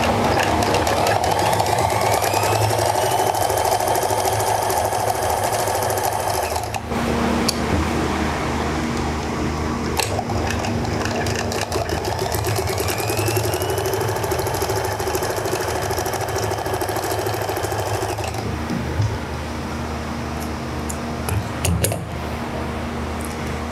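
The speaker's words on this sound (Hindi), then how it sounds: "उसके बाद आप ये ऊपर वाली सिलाई भी लगा लें।" A sewing machine stitches the hem of a simple salwar with a steady, close, mechanical whirring run. It stops briefly near the middle and again toward the end, and no one talks over it.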